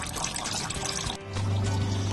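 Coolant draining from a 1992 Lexus SC300 3.0L engine during a thermostat replacement: a steady, close liquid pour and trickle that runs the whole time and grows fuller toward the end, with no voices.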